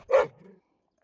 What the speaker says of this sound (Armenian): որ հաչալ, վերջացրեք